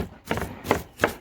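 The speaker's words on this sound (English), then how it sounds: "Don't judge me on my chopping" A knife chops food on a cutting board while fish is being prepared for tacos: three crisp, close chops in a quick, uneven rhythm, with no talking.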